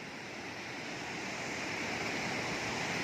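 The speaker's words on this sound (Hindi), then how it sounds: "पानी का साउंड कितनी तेज आवाज आ रही है।" Rushing water of the Pushpavati river pouring over a rocky bed in a Himalayan valley, a loud, continuous broadband roar heard up close and without talk.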